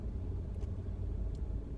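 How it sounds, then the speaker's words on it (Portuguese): Engine noise from a JAC J3 with 130,000 km intruding into the cabin, a steady low rumble filling the interior throughout with no talk over it. "O barulho do motor do carro, ele invade bastante a cabine."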